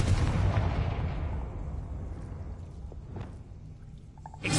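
A Confringo blasting spell erupts in Hogwarts Legacy, a loud, rumbling blast that starts at full force and slowly decays over several seconds, with a sharp burst returning at the very end.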